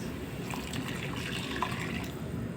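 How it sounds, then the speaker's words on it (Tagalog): Hot water poured into a cooking pan while making pancit bihon, a steady close splashing, trickling stream running without pause and without any voices. "Then maglalagay na tayo ng mainit na tubig"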